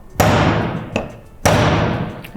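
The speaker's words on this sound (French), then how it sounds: "c'est d'utiliser le marteau et le poinçon." A hammer strikes a metal punch on sheet metal in a workshop to make holes, giving three loud, sharp ringing blows spaced about a second apart, each decaying slowly.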